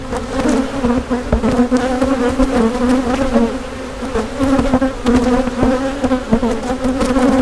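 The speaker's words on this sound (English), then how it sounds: "Shake these bees over here." Honeybees buzz loudly and densely at close range as they are shaken off a hive frame while a hive is split, a steady droning swarm with scattered knocks.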